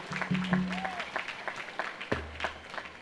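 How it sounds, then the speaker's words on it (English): Sustained applause from a university commencement audience runs throughout, close and even, with a low hum and a couple of brief tonal sounds mixed in. "Let's give Miss Abram another round of applause."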